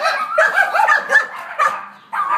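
Several dogs bark and yip in quick, overlapping bursts at close range, high-pitched and excited, with a short pause before another bark.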